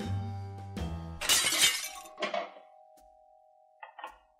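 A glass is tossed and shatters with a sharp crash, followed by tinkling pieces settling and a couple of faint clinks, all fairly close in a quiet room.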